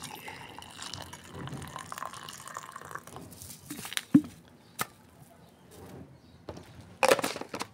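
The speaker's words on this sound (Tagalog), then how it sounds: "Lalagyan ng mainit na tubig." Hot water pours into a cup holding black coffee from a stick sachet, a soft liquid trickle with a few sharp clinks and knocks, close up and without talk.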